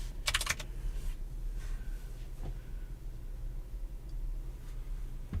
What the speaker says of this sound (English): I cannot type on this clacky keyboard